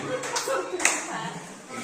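An audience applauds at a primary teachers' training session in India, a short burst of clapping from a group of people with a voice speaking over it.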